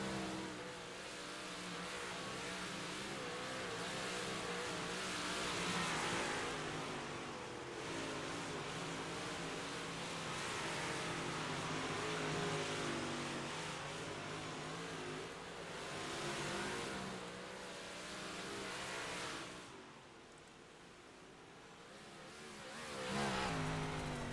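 A race car engine drones steadily around a dirt track, faint and somewhat distant, its pitch rising and falling as it accelerates and backs off through the laps.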